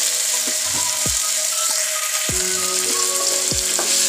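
Tomatoes and green chillies fry for egg bhurji with a steady broadband sizzle, broken by a few low thumps and scrapes as the pan is stirred; no one speaks.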